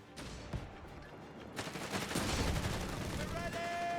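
Machine gun fire in a Company of Heroes 3 match, a dense stretch of bursts and battle noise that grows louder and busier partway through, with a commentator talking over it.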